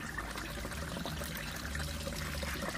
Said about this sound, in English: The third gutter will then flush